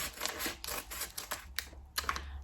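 Cutting into the packaging of a selfie ring light during unboxing gives a series of short, close, sharp snips and crackles in an irregular rhythm.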